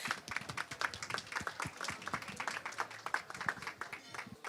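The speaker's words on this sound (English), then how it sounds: "Please give him a round of applause, please." Audience clapping for a young judge being invited up at a tech law awards ceremony: a steady patter of many hands, fairly close and continuous, with murmured voices underneath.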